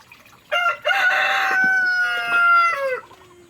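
A single Rhode Island Red rooster crows nearby, one long, loud, drawn-out cock-a-doodle-doo that rises, holds, then drops away into quiet.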